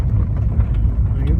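A Honda CR-V driven off-road on a trail gives a loud, close, low engine rumble throughout the brief moment, with a voice talking over it.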